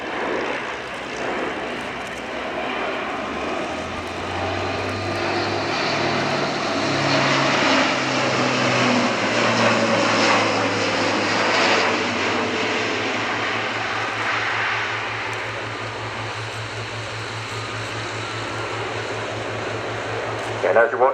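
Four-engine turboprop airlifter with Europrop International TP400 engines flying an airshow display, a loud sustained propeller drone with steady low harmonics and a slowly shifting pitch as it passes, a voice talking faintly over it.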